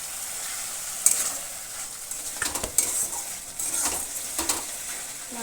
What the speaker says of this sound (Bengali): এদিকে দেখো মাছ ভাজা নামিয়ে মাছের মশলা কষাচ্ছি